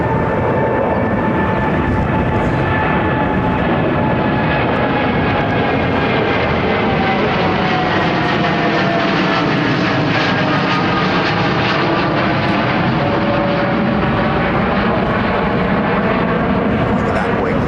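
An airliner departing from London Heathrow runway 09R passes close overhead, a loud sustained jet roar that swells and slowly shifts in pitch across the whole stretch.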